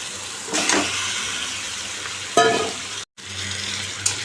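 Chicken pieces sizzle and fry in spiced oil, a steady crackling hiss with a louder burst as more meat goes into the pan and spoon stirring around it.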